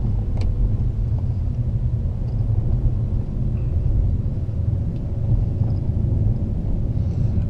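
An Alfa Romeo 159 2.4 driving along, a steady low engine and road rumble heard from inside the car, continuous and fairly loud with no talk.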